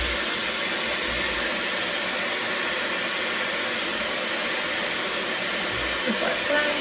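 Dyson Airwrap hair styler blowing air on hair, a loud, steady, close-up whoosh of rushing air with a high whine that holds constant throughout.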